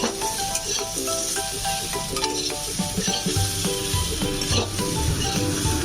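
Soya chunks sizzle steadily in a pan over a medium-low flame as a utensil stirs them, with repeated scraping and clinking strokes over a continuous frying hiss, close and moderately loud.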